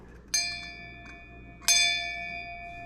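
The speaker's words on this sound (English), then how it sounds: "This old bell, which is just belling along." An old school hand bell with a wooden handle rings twice, each bright metallic strike leaving a clear ringing tone that slowly dies away in a quiet room.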